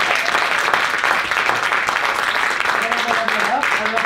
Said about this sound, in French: on les applaudit encore une dernière fois, mais très très fort.